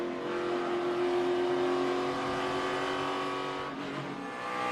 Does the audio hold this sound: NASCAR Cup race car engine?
yes